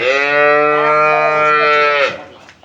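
A Jersey-Friesian cross dairy cow for sale in Dinajpur gives one long, loud, close moo that holds steady for about two seconds before breaking off.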